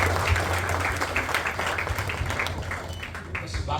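Crowd applause at a Marathi song launch event for the composer, a steady dense clapping wash lasting throughout at moderate loudness with a low hum underneath.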